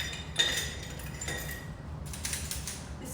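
Small metallic clinks and rattles come as a 1.5-tablespoon OXO cookie scooper is pulled out among kitchen utensils, a few sharp taps then a lighter scatter of clatter, close by with no talking.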